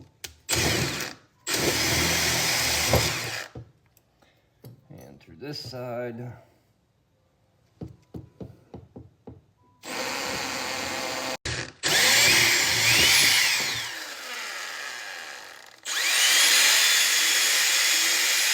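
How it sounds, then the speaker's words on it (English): A power drill whines loudly in several bursts, biting into metal while shortening an XR50R motorcycle fork, separated by quiet gaps with clicks, handling noise and a short spoken remark. "find me a drill and drill bit"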